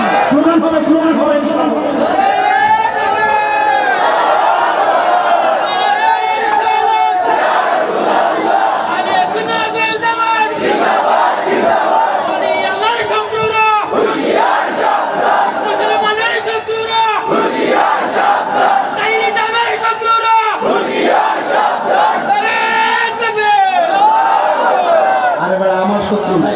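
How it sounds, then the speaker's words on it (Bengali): At a Bangla religious gathering in Sylhet, a large crowd loudly chants the word "halal" in unison, the repeated two-word slogan rising and falling in steady rhythmic waves. "হালাল হালাল স্লোগান হবে, স্লোগান হবে।"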